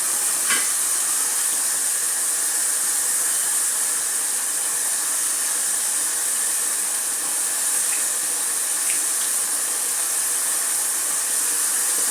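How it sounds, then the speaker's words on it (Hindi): Chopped green chillies fry in a pan for chicken keema pulao, making a steady, close, continuous sizzling hiss that never lets up, with no voices. "हरी मिर्च को उसके अंदर मैं काट के डाल देती हूँ"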